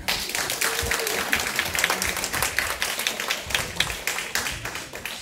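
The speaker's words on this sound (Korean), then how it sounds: "박수 한번." Clapping from a church congregation at a Bible-reading class closing gathering, a crisp, dense burst of many hands that carries loud and even for several seconds with no talk over it.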